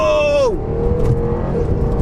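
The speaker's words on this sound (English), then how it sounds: "4-door saloon with the V8 supercharged engine under the bonnet, 500 brake" The supercharged V8 of a Jaguar XFR four-door saloon, rated at 500 brake horsepower, gives a loud, high engine note that sweeps downward as it accelerates, then settles into a deep, steady rumbling drone.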